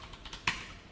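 Computer keyboard typing while coding in Visual Studio Code: a short run of soft, close key taps ending in one sharper keystroke, quiet and with no voices.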